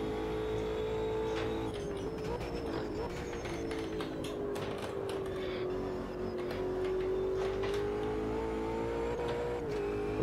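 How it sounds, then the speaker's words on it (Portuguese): Race cars in the racing game Automobilista 2 close in from behind at Silverstone, a continuous loud droning engine whine that rises and dips slightly in pitch, with faint ticking and road noise underneath. "Os carros que vinham atrás se aproximou."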